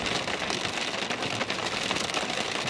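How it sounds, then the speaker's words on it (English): Steady rain pattering on a car during a storm chase in Minnesota, a dense continuous hiss of drops drumming on the roof and glass at even loudness, close and enveloping. "I'm so sorry about the rain sound"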